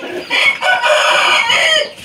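A rooster gives a single loud, close crow, its drawn-out call rising and holding for about two seconds with a short break between opening note and main cry.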